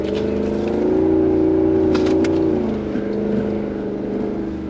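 A Jeep engine drones and revs steadily outdoors while snow wheeling, a loud continuous motor tone with a slight rise in pitch midway before settling back down, with no talking.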